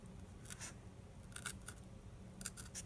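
Scissors snipping trenches into material for a DIY tool caddy, a few quick close snips in small clusters, quiet and crisp with no voices.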